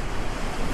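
Rough sea surges against a sailing boat under sail with no motor, making a continuous loud wash of waves mixed with wind buffeting the microphone.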